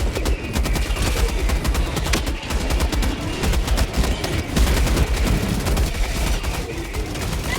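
Sustained rapid automatic gunfire from a deployed sentry in the video game Helldivers 2, dense loud bursts of shots rattling nearly nonstop with heavy low-end thumps throughout.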